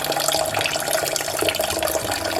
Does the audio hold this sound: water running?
yes